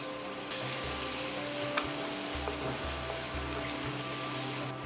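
A turmeric and spice paste sautéed with a little water for a duck egg curry, giving a faint low sizzle with a few soft stirring scrapes against the pan and a low steady hum beneath.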